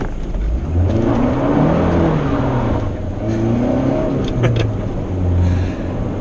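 A 2.2 liter old Honda Accord peels out, its engine revving hard and rising in pitch through a sustained acceleration, close and loud with no voices.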